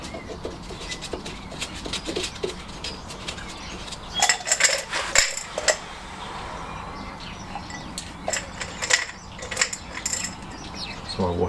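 Metal nuts and washers clink and rattle as they are fitted and tightened on the cylinder head of a classic Fiat 500, with scattered close metallic taps and ratcheting over a steady background hum.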